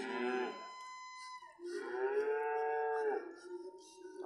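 Cattle lowing at the Plaosan livestock market in Magetan, East Java: two long, loud moos, the second stretched for over a second, with faint market noise between and after them.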